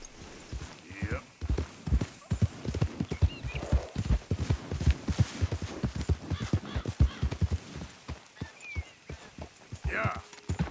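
Horse hooves clip-clop rhythmically on the ground in the video game Red Dead Redemption 2, close and steady. Occasional whinnies and a brief voice come in over the hoofbeats.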